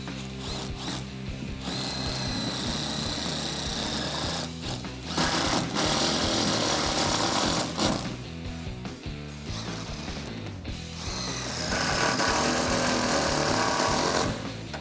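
A power tool runs in bursts while driving bolts for an under-rail storage case in the bed of a RAM 1500 pickup, buzzing and rattling with short pauses between runs, close and fairly loud with no talk.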